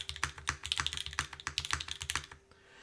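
Rapid mechanical typing on a Dolch TKL mechanical keyboard with a top-mount feel, including spacebar presses, a steady run of close, crisp clacks and thocks that stops abruptly near the end.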